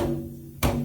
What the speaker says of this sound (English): One is the doom sound, like you might talk about on a djembe or darbuka